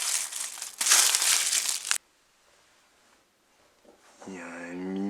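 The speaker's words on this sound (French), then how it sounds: "Et après, on le roule dans du papier alu." Food being rolled up in aluminium foil in a home kitchen, giving two seconds of loud, close crinkling and crumpling, then near silence before a voice speaks.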